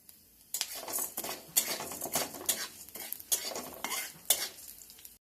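Lentils (dal) dry-roasting in a pan, stirred with a utensil: scraping, rustling strokes in an uneven rhythm with a light sizzle underneath, close up and with no voices.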